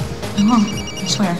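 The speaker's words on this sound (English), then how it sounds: "That's my phone." A mobile phone rings indoors with a bright, repeating electronic tone, while a person speaks briefly over it.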